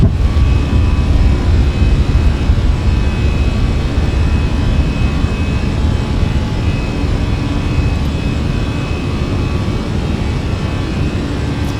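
Airliner jet engines at takeoff power in the Flight Simulator 2024 video game, a loud, constant broadband roar with a deep rumble underneath and faint whining tones, steady throughout.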